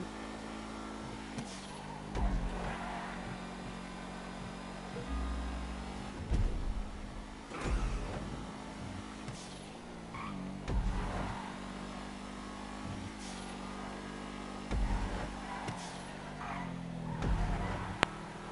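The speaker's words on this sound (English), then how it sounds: "absolutely love that deep V12 sound that you get out of the Schafter in this game" Deep V12 engine of the Schafter car in GTA 5 racing a lap, a steady low drone with repeated revving swells and gear-change surges, continuous and close, no talk.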